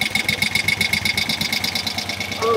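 Engine of a 1971 Moto Guzzi Ambassador motorcycle lugging on one cylinder, a close, steady, uneven pulsing idle with a buzzy mechanical chatter and irregular thumps, running throughout with no talking.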